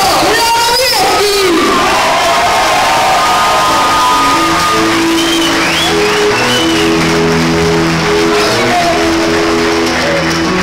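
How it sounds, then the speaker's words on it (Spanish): Loud applause, cheering and shouting from a crowd at a solidarity festival, with a voice calling out at the start and sustained, roaring cheers and whoops continuing to the end. "Que se levante el aplauso para Peña Itapúa Blanco Azul, el señor Julio Lavieschi!"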